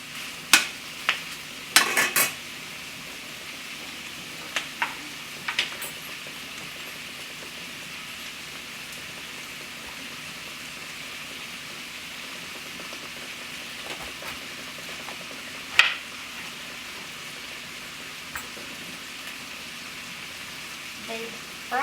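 Sausage and onion cooking in a pan give a steady low sizzle throughout, with a few sharper clicks and stirring scrapes near the start and one louder tap later, no talking.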